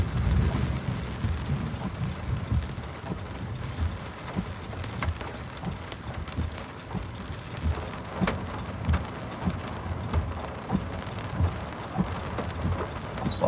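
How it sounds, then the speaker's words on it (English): Small hailstones and heavy rain pelt surfaces during a severe thunderstorm, making a steady dense patter with scattered sharper impacts and low rumbling underneath, with no voices. "Looks like we might be hearing a little bit of some small hailstones now with this storm."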